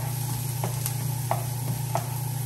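Garlic for coconut curry shrimp sizzles softly in a pan under a steady hum, with a few light, evenly spaced taps and scrapes as it is stirred.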